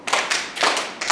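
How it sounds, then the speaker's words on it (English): Audience clapping in a communication class, three short bursts of applause close together, brief and fairly loud, with no talking. "So I want you to give her the Tanzanian round of applause."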